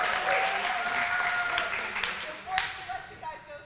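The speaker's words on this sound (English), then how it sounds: "Give him one more round of applause." Applause from an audience at a college honors forum, honoring students: steady, fairly dense clapping that carries on throughout, with a few louder individual claps near the end.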